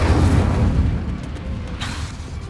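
Incendio fire spell cast in Hogwarts Legacy, a loud booming burst with low rumble that trails off over about two seconds, with a brighter crackle near the end.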